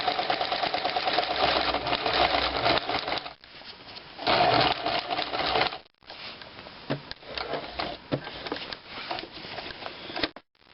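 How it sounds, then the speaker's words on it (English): Domestic sewing machine stitching fabric along cushion piping, a steady close mechanical whir that runs continuously with a couple of brief pauses and short restarts. "So we're going to sew up to the turn in the piping below"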